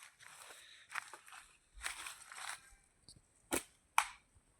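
Sharp shots fired at a target during a shooting test: two distinct loud cracks, spaced about half a second apart, follow some quieter shuffling and handling noise.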